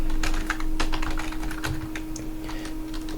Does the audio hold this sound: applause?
no